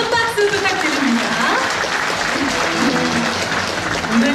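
Dense, steady applause from the audience fills a hall at the 2013 12th Korea Traditional Song Awards ceremony, with crowd noise and voices mixed in throughout.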